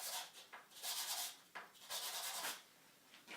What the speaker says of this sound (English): I'm polishing the corners for the loose things. So that's the general idea using this sanding paper here.